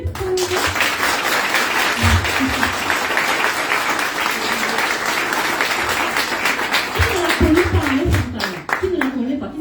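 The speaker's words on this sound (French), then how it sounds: "On l'applaudit bien fort." Sustained applause from an audience at a live conference, fills the whole clip with loud, dense, steady clapping, and crowd voices rise underneath toward the end.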